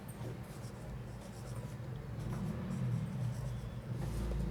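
Chalk or marker scratches across a board while a maths problem is worked out, a soft steady scraping over a low background hum with no talk.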